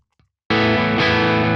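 An electric guitar played through a Neural DSP Archetype Plini amp simulator strikes a loud, sustained distorted chord after a brief faint pick noise, ringing on with a slight shift midway.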